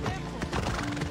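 Brief hoof clip-clops with a horse whinny over them in Assassin's Creed Odyssey, fairly faint and over in a second.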